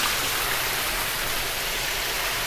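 Rainwater pouring down inside a house like a waterfall during heavy rain, a steady, dense rushing and splashing wash that stays loud and close throughout with no pauses.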